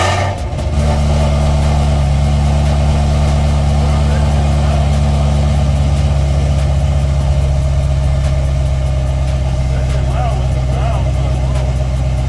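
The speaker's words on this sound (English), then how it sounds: "First start up with the Corsa Extremes." A Ford Shelby GT350 with a freshly fitted Corsa Extreme exhaust fires up and settles into a loud, steady, deep idle rumble that holds for several seconds, close by and dominant, with people talking faintly underneath.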